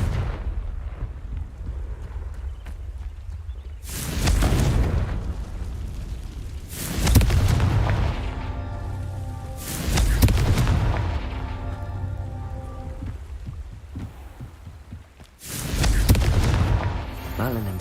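Booming spell explosions from the Confringo curse in Hogwarts Legacy, several heavy blasts in succession with rumbling tails, loud against game ambience and background music.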